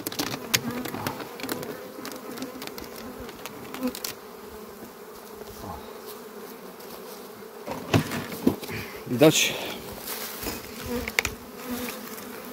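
Dense buzzing of many honey bees droning steadily up close in a full hive, with occasional louder passes and knocks, and a single brief word spoken.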